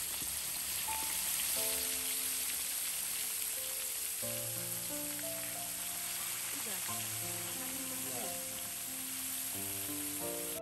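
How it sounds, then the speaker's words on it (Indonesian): Catfish frying in hot oil, a dense steady sizzle that stays even throughout, with background music playing over it. "Minyak udah panas, sekarang waktunya goreng ya."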